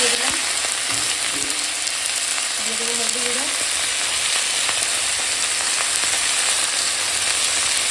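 Loud, constant crackling sizzle of okra frying in a pan, with faint scraping and clinks underneath.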